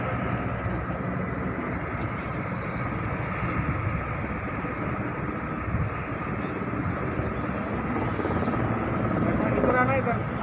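A helicopter flies near a helipad, its rotor and engine giving a loud, steady churning roar that holds throughout, with voices faintly present beneath it.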